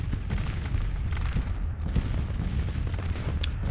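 Sustained musket volleys and booming artillery from an American Civil War battle in the strategy game Grand Tactician: The Civil War, a dense continuous rumble of overlapping shots and low blasts with scattered sharper cracks, no talking.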